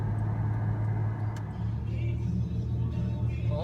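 Steady low road rumble and engine drone from inside a Dodge Dakota pickup truck cruising on a highway late at night, continuous and even with no talk.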